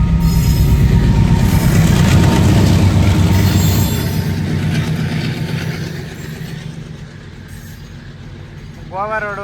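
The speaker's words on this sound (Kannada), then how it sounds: "ನೋಡಿ ಗೈಸ್, ನಮ್ಮ ರೋಡಿಗೆ ಟ್ರೈನ್ ಅಡ್ಡ ಆಗ್ಬಿಟ್ಟೈತೆ." A train rumbles past close by at a level crossing, heard from a truck, with wheel clatter and metallic squeal, loud at first then easing off, ending with a rising whine.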